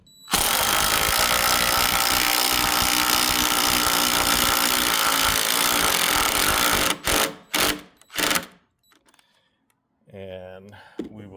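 A power tool drives screw-in fittings into a rear wall of a historic 1860s cottage, whirring loudly and continuously up close, then stuttering in short bursts before stopping. A brief voice follows.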